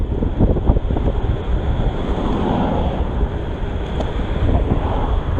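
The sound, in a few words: wind noise on microphone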